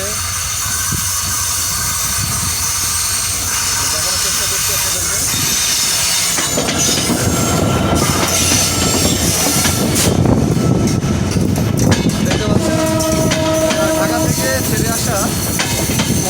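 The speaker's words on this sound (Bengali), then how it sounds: "একতা এক্সপ্রেস ট্রেন প্রবেশ করছে" Ekta Express enters the Ishwardi bypass, a low rumble at first that swells into loud, close clattering wagons and hissing, with people talking beneath it and a brief high whine near the end.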